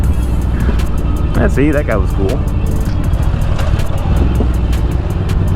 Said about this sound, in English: There's a lot of traffic, and this is what happens.